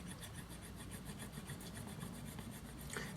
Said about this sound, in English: I'm going to rub back and forth, putting a nice even pressure along the dent as well as the surrounding area